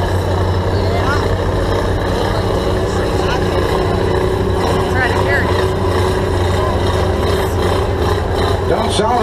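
A pulling vehicle with a 4-6L Chrysler engine working hard at a harvest days pull, loud continuous engine roar heard steadily throughout, with people talking over it.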